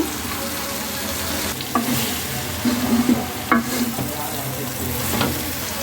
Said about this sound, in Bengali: এখন আমি ফোড়ন দিয়ে ভাজাটা করে নেব।